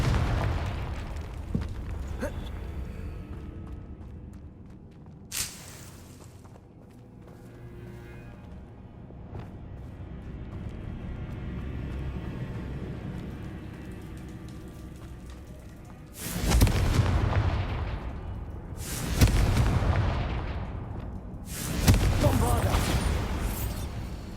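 Spell explosions from the Hogwarts Legacy video game, Confringo blasts cast in combat, landing as several loud booming bursts in quick succession near the end after a quieter stretch with a single sharp pop.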